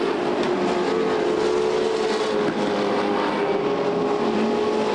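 Carl Chevrolet dirt trucks race around the Knoxville Raceway dirt track in a DTRA main event, engines roaring loudly and steadily as the pack circles, with no commentary over it.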